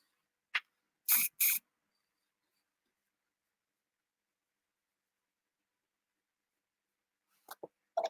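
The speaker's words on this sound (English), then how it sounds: "The spray is acrylic sand and sealer" Acrylic sand and sealer sprayed from an aerosol can onto a woodturning, two or three short, sharp hissing bursts near the start, then quiet, with a few faint sounds at the end.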